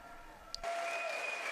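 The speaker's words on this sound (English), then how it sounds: "the biggest applause to those who are healing souls, and those are our priests, more than 400 of them." A festival audience applauds the priests at a youth festival finale, a broad wash of clapping that starts abruptly and holds steady at moderate volume.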